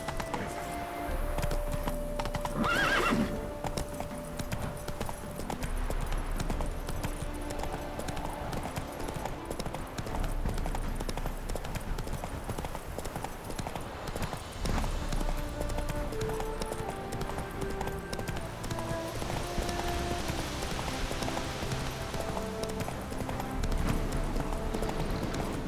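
Roach the horse gallops in The Witcher 3 with rhythmic clip-clopping hoofbeats running steadily over a low rumble, easing and picking up again over a long stretch, with a faint voice at moments.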